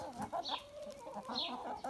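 Jersey Giant chickens and roosters clucking and murmuring close by, a mix of soft repeated clucks and a few higher calls, with no talking.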